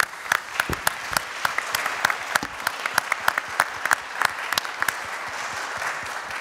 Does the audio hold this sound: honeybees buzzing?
no